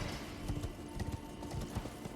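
Rapid hoofbeats of a horse galloping in the video game Elden Ring, a steady close clip-clop rhythm of heavy thuds repeating several times per second with no talk over it.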